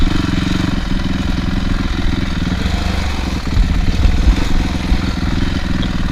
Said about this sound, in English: My bike really hates going this slow.